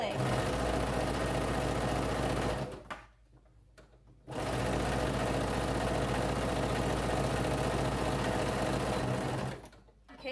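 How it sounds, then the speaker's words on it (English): A sewing machine runs a half-inch seam down a pajama bottom leg with a back stitch, a loud continuous motor whir that stops briefly, restarts for a long run, then pauses again near the end. "I'm going to back stitch at the beginning and go down the whole leg"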